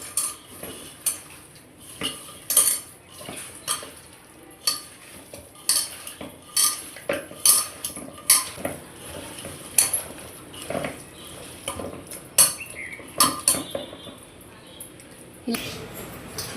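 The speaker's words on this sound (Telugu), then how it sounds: "ఇవన్నీ బాగా కలుపుకోవాలండి" Chicken mixed with oil and coriander in a bowl, a spoon scraping and clinking against the sides in irregular bursts, close and fairly bright, with a person talking at times.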